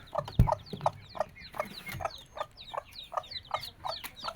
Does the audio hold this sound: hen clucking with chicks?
yes